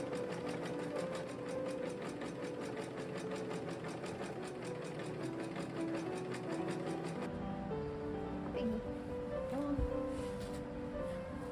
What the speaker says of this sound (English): I'm gonna start sewing up the bodice and we'll see how that fits